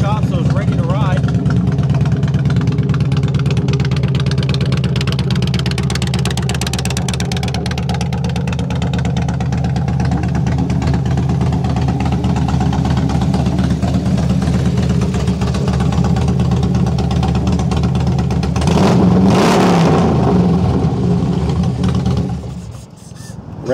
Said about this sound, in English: I'll go ahead and start it up so you can hear those Vance and Hines pipes.